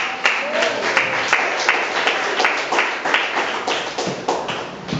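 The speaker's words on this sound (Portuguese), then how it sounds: "Palmas para o Senhor Jesus." A church congregation claps steadily in a fairly even rhythm, close and sustained, with a faint voice mixed in.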